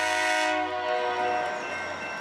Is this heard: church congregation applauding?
no